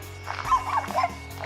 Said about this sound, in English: Doggies.